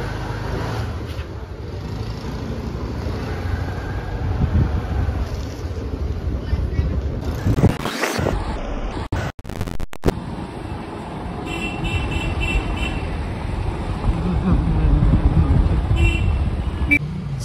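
Car driving on a road near Umbraj, a continuous engine and road rumble from inside with a brief honk and a short jolt midway, and voices talking over it.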